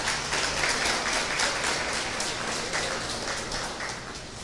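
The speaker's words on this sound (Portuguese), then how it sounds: "Os outros irmãos aplaudem o Senhor Jesus." A church congregation claps in steady, even applause that fills the space at moderate volume without pause, and no one speaks over it.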